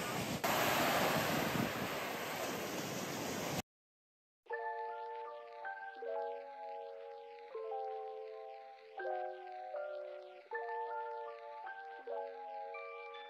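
Surf rolls onto quiet Kata Noi Beach in Thailand at sunset, a loud, steady wash of breaking waves with wind for a few seconds before it cuts off and gentle chiming music follows.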